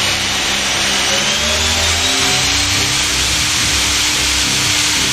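A 2012 Haas ST-10T CNC lathe with a 6.5-inch chuck spins its spindle up toward 6,000 RPM, a loud continuous mechanical whir with a rising whine and a steady hum close by, no talking.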